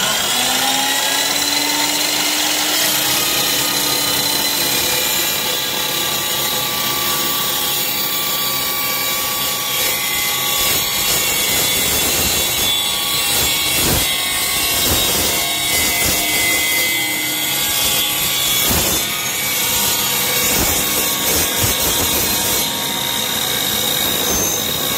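A power saw cuts continuously during a landscape trailer rebuild, a loud, sustained whining and grinding drone lasting the full twenty-five seconds with slight shifts in pitch as the blade works through the material.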